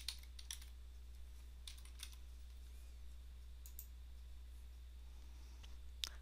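Password being typed on a computer keyboard, light scattered keystroke clicks in short bursts over a low steady hum, fairly faint and close.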